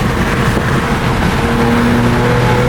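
A BMW G80 M3 engine droning steadily while shifting gears, heard from close by as a loud, continuous rumble with faint tonal lines rising near the end, no voices.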